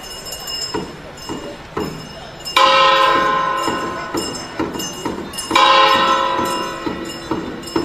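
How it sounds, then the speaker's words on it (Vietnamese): Ritual bell shaken during a Dao ordination (cấp sắc) ceremony dance before the altar in Hồ Thầu commune, Tam Đường: bright metallic ringing bursts repeat in uneven rhythm, swelling loud twice, with a busy room and faint voices behind. "thầy Tam Nguyên làm động tác cầm chuông múa trước đàn lễ với ngụ ý cầu mong các ông tổ phù hộ cho lễ cấp sắc được diễn ra thuận lợi"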